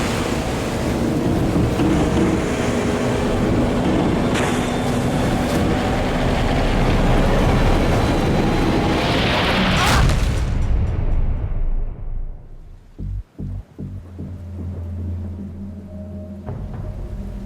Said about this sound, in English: One of these big waves breaks directly over the middle of the boat.